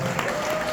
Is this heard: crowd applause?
yes